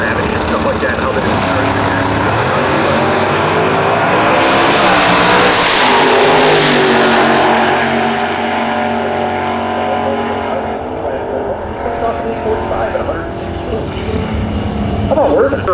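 A race car engine roars loudly along a track at a stock car event, sustained and droning as it passes near, with an announcer's voice faintly beneath the noise.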